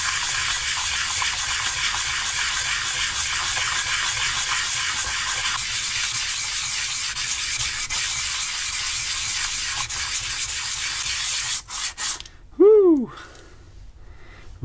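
Sandpaper of 120 grit is rubbed over an AMD FX CPU in a lapping job, making a continuous close, raspy scrubbing hiss that goes on for several seconds before stopping, followed by a short, faint tonal sound near the end.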